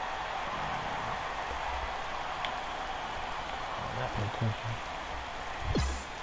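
Steady rain falls over a baseball stadium in MLB The Show 17, a constant hiss filling the background with a few faint low thumps and ticks near the end.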